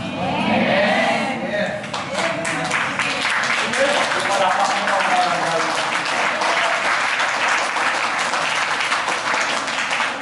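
Steady, dense hand clapping fills a church worship gathering, continuing evenly throughout, with a voice heard over it near the start.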